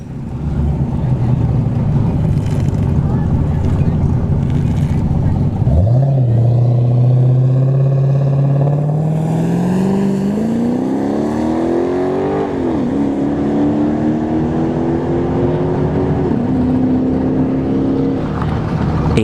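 A Dodge Charger drag car launches and accelerates down a dragstrip at a test-and-tune session, its loud engine climbing steadily in pitch through several gear shifts, with voices talking in the background.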